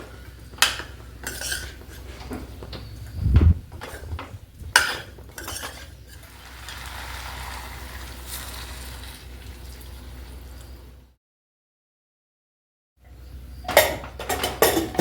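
A spoon scrapes and clinks against a pot as washed rice is stirred with spices: irregular metallic knocks and scraping, then a stretch of softer stirring, a short silence, and a final cluster of clinks.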